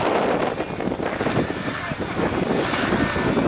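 A loud, rumbling Chinook helicopter roar at an air show, with wind buffeting the microphone, steady and continuous throughout.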